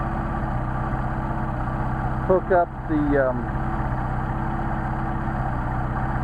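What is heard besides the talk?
Mercedes 190SL engine idling with Solex carburetors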